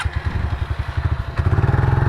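Small pit bike engine with a broken clutch revving in first gear during a hill climb, a steady pulsing putter near and loud that picks up pace and grows stronger partway through.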